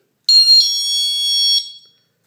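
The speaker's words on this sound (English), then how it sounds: "it's pretty loud, right? The chime goes off." A wireless off-grid home security alarm system chime sounds loudly and close up, a bright electronic tone with three quick onsets blending into one sustained ring for about a second and a half before cutting off.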